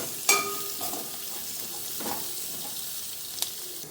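Onions and green chillies sizzle steadily in a pan on their way to golden brown, a close, even hiss with a few soft stirring scrapes and no voices.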